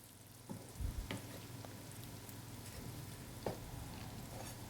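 A spoon stirs mutton liver thokku in a pan after the stove is switched off, giving soft scraping thuds over a faint steady sizzle, with a couple of louder knocks against the pan.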